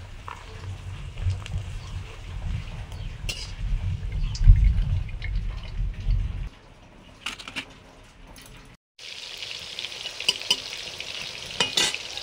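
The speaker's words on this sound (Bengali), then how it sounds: "পাঁপড় ভাজছি এখন।" Papad frying in oil, a close bubbling sizzle with crackles over a low rumble, fading after about six seconds before a brief gap and a fresh hissing burst near the end, with no talk.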